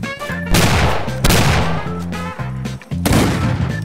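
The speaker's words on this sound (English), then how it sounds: "Get my shotgun out." Loud blasts from a Wild West video game shotgun, several heavy booming shots in quick succession with ringing tails over a low rhythmic game-music backdrop.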